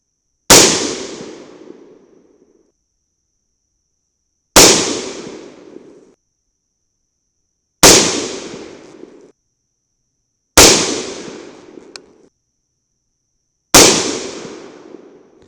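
Five loud 300 BLK rifle shots firing 125-grain Sierra Tipped Match King rounds, spaced a few seconds apart, each a sharp unsuppressed crack with a short decaying tail and silence between.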